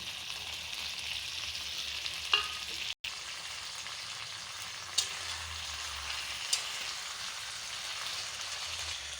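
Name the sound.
fried potatoes added to sizzling chicken kosha in pan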